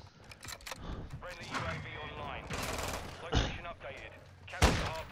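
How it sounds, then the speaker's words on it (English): A shotgun blasting in Call of Duty: Modern Warfare II, loud heavy booms among continuous game gunfire and chatter, with people talking over the action. "Bro, that shotgun is shotgunning, gang."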